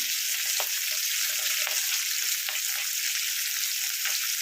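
Fish head frying in oil for a Bengali dish, a steady close sizzle and crackle with faint occasional stirring taps, no voices.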